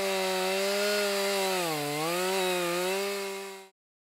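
A chainsaw boring a plunge cut into a tree: a loud, steady motor drone close by that dips briefly in pitch under load, then recovers and cuts off abruptly.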